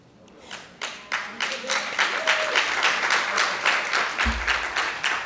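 Audience at a Global Language Project student event breaks into a round of applause, building quickly into clear, evenly spaced rhythmic claps that continue to the end.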